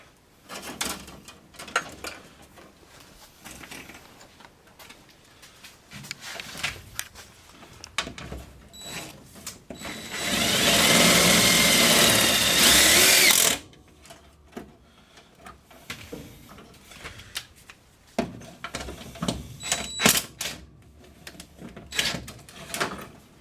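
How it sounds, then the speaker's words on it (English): A power drill drives a couple of self-tapping barn screws into a 1964 car project, a loud steady whir lasting a few seconds amid scattered clanks and workshop handling noises. "just run a couple self-tappers in there for now"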